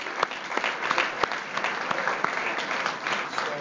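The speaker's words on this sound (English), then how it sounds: "So just a quick round of applause for our esteemed panelists." Audience applause for panelists at a chamber of commerce event, a steady crowd clapping with sharp individual claps standing out, fairly close and continuous throughout.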